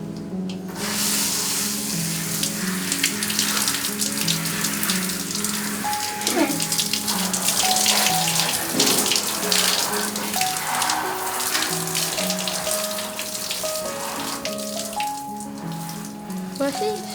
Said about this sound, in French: Je me douche à ta place.